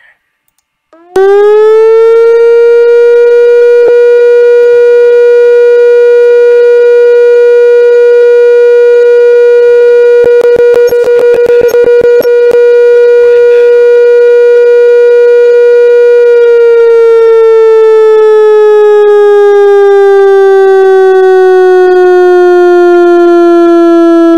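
Synthesized ESC-864 analog electronic siren tone made in Audacity, a loud steady wail that rises at the start, holds a long constant pitch, then slowly winds down, with no voices.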